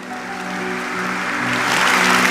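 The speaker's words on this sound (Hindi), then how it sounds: "हमारे मोदी जी की तालियां बजा रहे हैं वहां पे।" A gathering audience breaks into clapping that swells steadily louder over a couple of seconds, a dense, continuous wash of hands with a faint tonal hum beneath and no talk.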